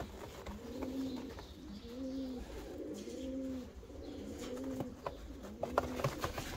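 Large pigeons of fancy breeds in a loft coo repeatedly in low, rolling calls at close range, with light rustling and a few soft taps in between.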